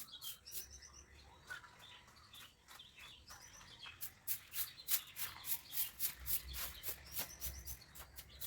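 Small birds such as parrots, sparrows and crows chirp around a yard in the cool morning, with sharp tweets at first, then a faster run of chirps, fairly close but soft.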